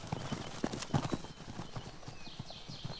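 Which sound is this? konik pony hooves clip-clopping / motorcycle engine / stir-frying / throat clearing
konik pony hooves clip-clopping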